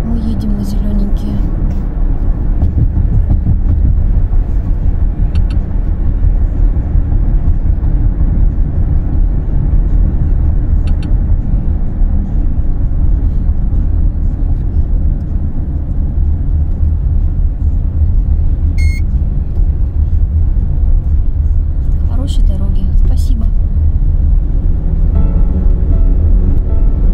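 Continuous low road rumble from inside a car cruising on a toll road out of Moscow region toward the sea, steady and loud, with people talking in places.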